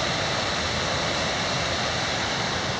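Gable Creek, a Sierra Nevada mountain stream, rushing in a steady, dense, close wash of flowing water with no breaks or voices.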